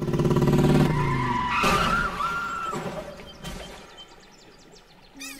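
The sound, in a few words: motorbike accident, tires skidding, movie sound effect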